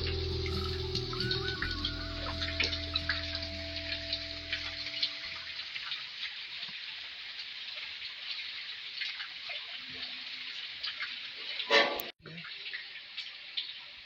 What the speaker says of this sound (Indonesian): Dari Cihulu inilah sumber air mengalir ke tiga wilayah